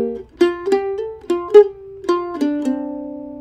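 Mandolin picking a short phrase of the fiddle tune Last Chance, a quick run of bright plucked notes ending on a sustained tremolo note, clear and close with no talking.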